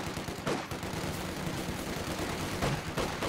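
Assault grenadiers in Company of Heroes 2 open up with sustained gunfire, a dense, continuous crackle of rapid shots with a few sharper bursts standing out, no talking over it.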